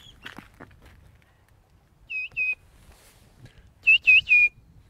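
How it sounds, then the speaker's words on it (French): A common greenshank gives two bursts of clear, ringing whistled calls, first a pair of notes and then three, against a quiet background. "Oh, tiens, un aboyeur."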